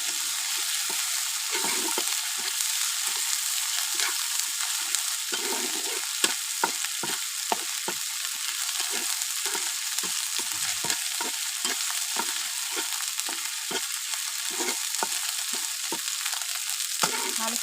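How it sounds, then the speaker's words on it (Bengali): Chopped ginger and garlic fry in hot oil for fish curry, giving a loud, continuous close-up sizzle broken by frequent soft scraping strokes of a spatula stirring through the pan. "ভালো করে ভেজে নেব।"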